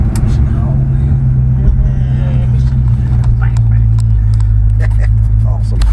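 Rebuilt V8 engine of a 1955 Chevy idles with a loud, steady low rumble up close, while people talk over it.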